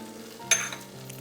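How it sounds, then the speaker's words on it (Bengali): Chopped garlic fries in melted butter in a pan, a low sizzle with a single clink of a utensil stirring against the pan partway through, heard close and brief. "রসুনটাকে একটু এইভাবে ভেজে নিতে হবে"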